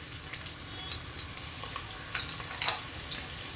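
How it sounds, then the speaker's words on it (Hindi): Thin-sliced onion fries in oil in a pot on high flame for mutton biryani, a steady low sizzle with occasional crackles and soft stirring scrapes, quiet and with no talk. "फ्लेम को हाई रख के प्याज को हमें गोल्डन ब्राउन होने तक पकाना है"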